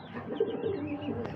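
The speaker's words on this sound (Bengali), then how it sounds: "মাশাআল্লাহ, পায়রাটা তো দারুণ।" Exhibition homer pigeons cooing at a pigeon farm in Narsingdi, Bangladesh: a soft, throaty coo rises and falls over a low murmur of birds, close by and moderately loud, with no talk.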